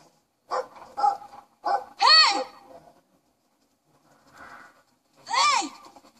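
A dog barks in several sharp, close bursts, a quick cluster of yips and barks followed by a pause and then one more loud bark, with a voice mixed in.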